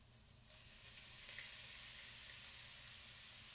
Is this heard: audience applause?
no